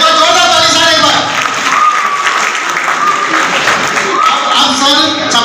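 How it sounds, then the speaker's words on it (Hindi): Loud, dense audience applause fills a large seminar hall at a Delhi grand business event, steady and unbroken throughout, with a few voices faintly mixed into the clapping. "एक बार जोरदार ताली सर, एक बार।"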